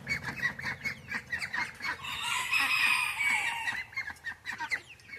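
On a small farm, a caged rooster clucks in a rapid run of short calls, then breaks into a sustained crow in the middle before the clucking resumes, fairly close and moderately loud.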